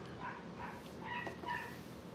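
A small dog yips and barks faintly in a few quick, high-pitched bursts, heard at a distance over a low background hum.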